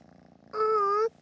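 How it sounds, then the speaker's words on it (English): An animated cartoon cat purrs as it is stroked, a smooth humming tone lasting about half a second that rises out of quiet background sound. "You're stroking Enid the cat."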